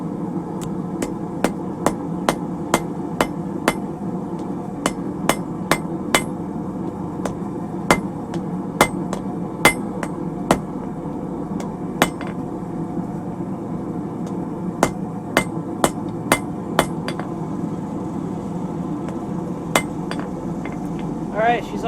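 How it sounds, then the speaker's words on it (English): Hammer blows ring out repeatedly on hot iron as a blacksmith forges a split cross shut by hand, steady strikes in irregular bursts with short pauses, fairly close, over a low background rumble. "Forge her shut a bit, just that way it's easier to chisel the other"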